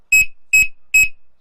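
Anti-theft alarm padlock sounding three loud, piercing electronic beeps in quick, evenly spaced succession, alone and close.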